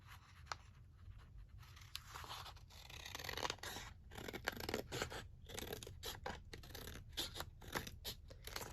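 Scissors cut paper for a junk journal with close, quiet snipping and crisp scratchy slicing sounds, repeated in an irregular run of cuts.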